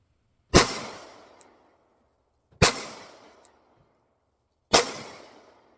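A Hellcat Pro Comp pistol fires 115 grain rounds: three loud, sharp shots spaced about two seconds apart, each trailing off in a short decaying echo, with a faint click after the first two.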